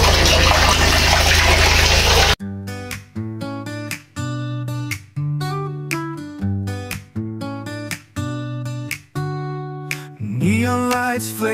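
Strong water gushes loudly from a tap in a clean campsite restroom near a pool in Montalban, Rizal, as a steady broadband rush for about two seconds, then gives way to music.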